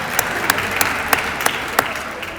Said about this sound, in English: so can we get a quick round of applause?